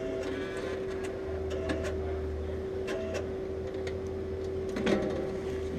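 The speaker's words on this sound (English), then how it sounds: "Open up your printer." A photo booth printer being opened gives a low mechanical hum with a steady tone, plus several small clicks and ticks and a slightly louder clack near the end.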